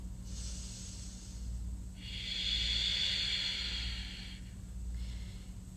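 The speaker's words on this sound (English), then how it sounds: "And of course, breathing." Slow, audible breathing during a yoga session, heard as soft airy hisses with a long, stronger exhale in the middle and shorter breaths around it, close to the microphone, over a faint low hum, with no talk.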